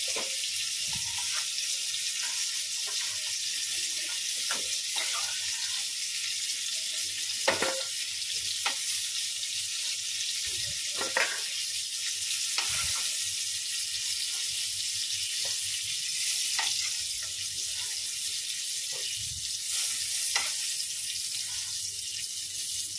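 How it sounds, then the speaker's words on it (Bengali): Food frying in hot oil in a home kitchen, a steady bright sizzle throughout, broken by occasional louder crackles and stirring scrapes, with no talking. "ভালো করে ভেজে নিলাম।"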